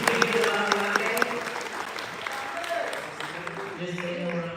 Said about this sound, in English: Can we give James a huge round of applause?